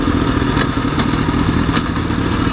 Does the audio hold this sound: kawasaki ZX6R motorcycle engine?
yes